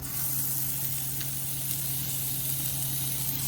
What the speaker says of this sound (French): Tu prends ta petite boulette, puis t'as mets dans la poêle.